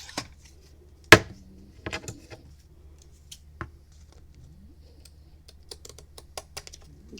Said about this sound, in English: I'm going to go ahead and cut it off where I think I'm going to end it.